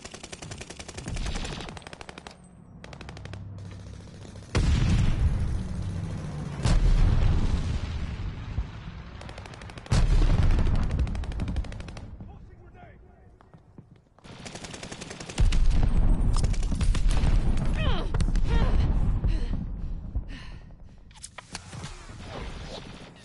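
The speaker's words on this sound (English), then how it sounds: "They're sending mortar shells." Mortar shells and heavy gunfire in a Call of Duty: Vanguard battle, with loud bursts of explosions and rattling fire coming in waves, dropping briefly to quieter stretches before surging again.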